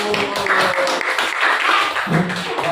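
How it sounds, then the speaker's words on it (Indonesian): A classroom of high school students clapping together at a guidance lesson, a loose patter of hands that rises and dips over a few seconds with no talk over it. "Oke, tepuk tangan."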